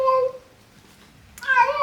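A cat named Fate, about to throw up, gives two short, strained yowls close up, separated by a brief quiet gap.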